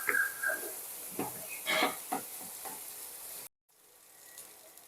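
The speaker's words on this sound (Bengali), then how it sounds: "একটু ভালো করে নাড়াচাড়া করে ভালো করে কষিয়ে নিতে হবে।" Cabbage and other vegetables are stirred and fried in a pan for a vegetarian cabbage dish, with scraping, clattering strokes and soft sizzling for a few seconds before the sound drops out and a faint hiss resumes.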